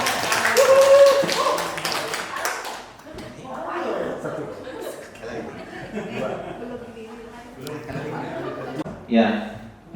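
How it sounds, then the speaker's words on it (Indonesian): An audience at a teachers' training session on positive school culture claps together in a dense burst for about three seconds, then the applause gives way to a presenter talking over light background noise. "tepuk tangan buat Bapak Ibu semuanya"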